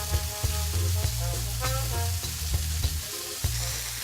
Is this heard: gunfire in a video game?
no